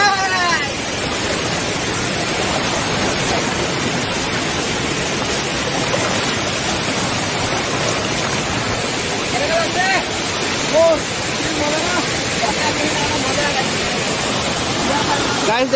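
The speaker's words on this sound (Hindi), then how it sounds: "देखिए वो पहाड़ का भीतर से पानी आ रहा है" Water pouring out from inside a mountain at Bonda waterfall, a loud, continuous broadband rush filling the whole span with no breaks.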